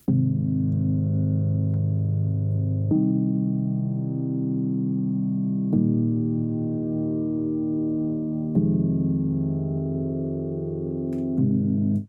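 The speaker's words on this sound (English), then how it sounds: "a piano patch, which is a soft piano by Labs" A soft piano patch from Labs plays sustained, mellow chords that change roughly every three seconds, warm and full in the low-mid range, alone with no talking.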